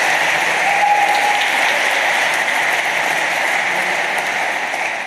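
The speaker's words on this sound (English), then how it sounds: "maybe a round of applause for our 3 volunteers." Sustained audience applause at a computer science lecture, a dense wash of clapping from a crowd that stays steady throughout and fades slightly at the end.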